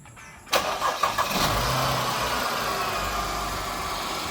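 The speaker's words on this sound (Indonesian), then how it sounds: "untuk engine berkapasitas 3000 cc V engine V6, mesinnya halus banget, nggak ada getaran tuh." A 2010 Mercedes-Benz with a 3000 cc V6 cranks and catches about half a second in, revs briefly, then settles into a steady, smooth idle close by with no voices.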